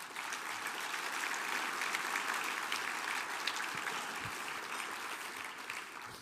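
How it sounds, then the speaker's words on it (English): Audience applause at a literary gala, a dense, steady wash of many hands clapping that holds at an even, fairly loud level from start to finish with no talking over it. "Please give yourselves all a round of applause."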